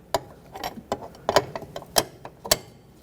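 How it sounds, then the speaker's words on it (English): A flare nut wrench works a brake line fitting on the master cylinder of a 2006-2010 Hyundai Sonata, producing a sequence of sharp metallic clicks and ratcheting ticks close up, irregular and unaccompanied by speech. "I'm using a flare nut wrench."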